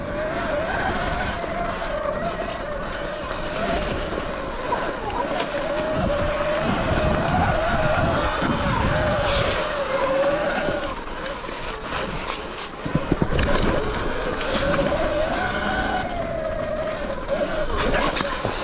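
A Surron Light Bee electric dirt bike rides a singletrack trail in sport mode, its motor whining steadily with rising and falling pitch over rustling tire and wind noise, close throughout, while a rider talks at times.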